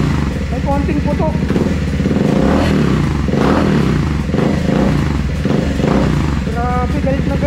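A Triumph Speed 400 motorcycle fitted with a DNA high-performance air filter revs close by in loud, repeated bursts that rise and fall, with some crackle between the pulls and occasional voices underneath.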